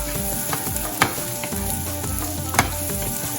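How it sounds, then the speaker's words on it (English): Bacon, onion and Brussels sprouts sauteing in a pan, a steady loud sizzle and crackle with a few sharp clinks of stirring, no talking. "Our nice crispy sauteed bacon and onion Brussels sprouts."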